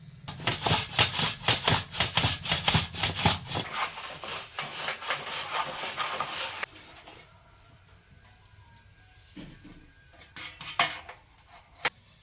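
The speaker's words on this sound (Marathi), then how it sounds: "असा खिसणीवर घेऊ काही भोपळा असा खिसून घ्यायचा" Pumpkin being grated on a hand grater, a fast run of rhythmic rasping strokes that stops around the middle, followed by quieter scattered scraping and a few light knocks, close by with no talk.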